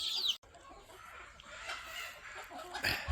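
Native country chickens cluck softly nearby while being fed fresh greens, short murmuring calls rising and falling over a quiet background.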